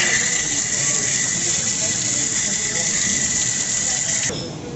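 High-pressure water hisses steadily inside a wet test machine used for felt dice specimens, a loud continuous rushing spray that cuts off abruptly near the end, leaving a quieter residual hum.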